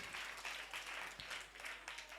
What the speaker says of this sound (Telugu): గట్టిగా చప్పట్లు కొట్టి దేవుని మహిమపరుద్దాం